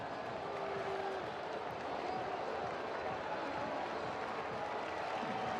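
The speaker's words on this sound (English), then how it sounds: "And now Noah will have the opportunity to get a rousing round of applause." Baseball stadium crowd at a Rays versus White Sox game applauding a pitcher's big league debut, a broad continuous roar of clapping and cheering from a large distant crowd, with an announcer's voice faintly underneath.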